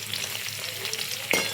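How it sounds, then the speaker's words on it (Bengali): Pieces of paneer sizzle in hot oil in a kadai, a soft continuous hiss ending in one sharp metallic clink from a spoon or spatula. "পনির ভাজা হয়ে গিয়েছে, এবার এটা তুলে রেখে দিচ্ছি অন্য একটা জায়গায়।"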